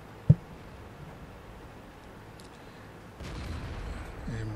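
A KV-5 heavy tank's cannon fires in World of Tanks: one sharp, loud boom near the start, followed by a low, steady rumble that thickens toward the end.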